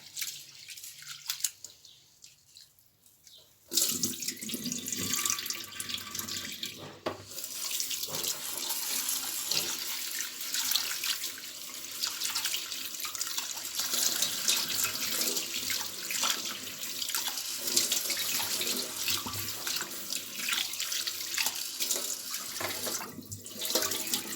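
Tap water runs steadily over lentils being rinsed at a kitchen sink to wash off starch, the flow starting after a quiet few seconds and continuing loud and close with a constant splashing hiss.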